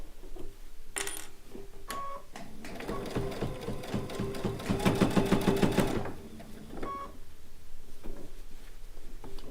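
A sewing machine with a size 90 needle runs through a fabric bowl cozy, stitching over bulky darted seams in a steady rapid clatter of about three seconds, framed by brief starts and stops with no talking.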